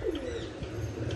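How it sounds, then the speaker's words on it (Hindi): Pigeons on a sunny rooftop give soft, low cooing calls close by, with a few faint chirps mixed in, and no voices. "देखो ये कुछ कबूतर मेरा इधर उड़ रहा है इस साइड"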